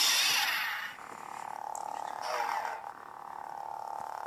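A Force Awakens FX Disney Exclusive lightsaber toy with Luke Skywalker's green blade gives a steady electronic hum, with a couple of swooshing swing sounds rising and falling over it, fairly faint and with no talking.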